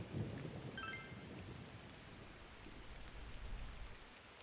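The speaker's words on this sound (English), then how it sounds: "It's raining outside," Rain falls steadily outside in Persona 4 Golden, a soft, even hiss of drops with a faint low rumble, quiet and alone with a few brief chiming tones near the start.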